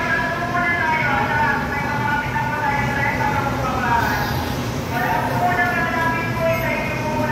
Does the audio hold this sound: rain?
no